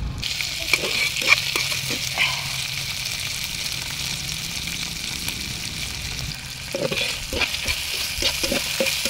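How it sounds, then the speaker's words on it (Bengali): Dried fish frying in extra oil with dried red chillies, onion and garlic, a continuous close sizzle with occasional stirring knocks and scrapes. "আমি এবার এখানে শুটকি দিছি 3টা।"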